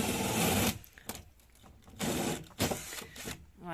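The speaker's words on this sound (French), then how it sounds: "mon mari est en train de percer des aérations" A power drill bores ventilation holes in a chicken coop. Loud, close bursts of whirring and grinding alternate with short quieter pauses between holes, with no talking.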